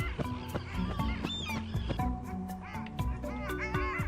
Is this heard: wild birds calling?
yes